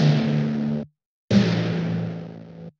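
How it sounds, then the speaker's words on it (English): A custom distorted timpani sample is struck twice, each a loud, booming hit with a long buzzy sustain, separated by a short gap of silence. "Instead, I've pretty much made my own timpani sample,"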